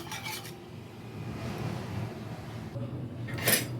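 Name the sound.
stirring cardamom into kulfi milk mixture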